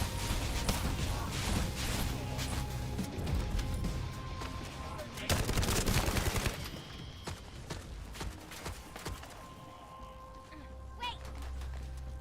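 Gunfire in The First Descendant: repeated sharp shots in clusters over a busy game mix with footsteps, loud early then thinning out, under occasional talk.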